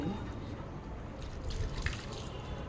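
Water splashes and trickles close by during a dog's bath, a soft, continuous wet sloshing with a few brighter drips and splashes, no voices.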